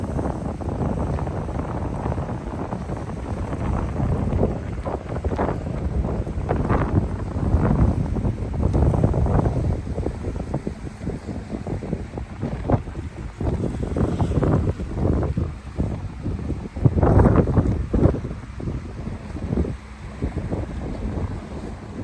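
Large boat heading out to sea in the early morning, a continuous rumbling engine and water rush mixed with buffeting wind noise on the microphone, fairly loud throughout.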